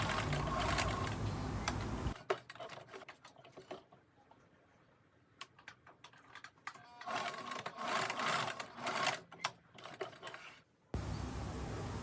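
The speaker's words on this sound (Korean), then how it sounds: "주름을 봉제할 때는 고정 스티치만 해줍니다." A sewing machine stitches pleats in place on a dress, with bursts of rapid mechanical clatter separated by a quieter stretch of fabric handling and clicks, and louder steady running at the start and end.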